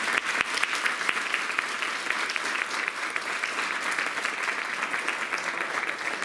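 Lecture-hall audience at a College of Education lecture series gives Dr. Burt a steady round of applause, dense crisp clapping sustained throughout at moderate volume.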